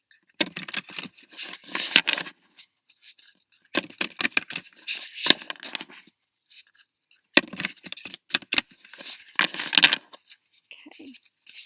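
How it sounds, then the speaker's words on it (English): Tarot cards are riffle-shuffled in bursts of quick, crisp fluttering clicks, close and alone, separated by short pauses. "Ruffle shuffle."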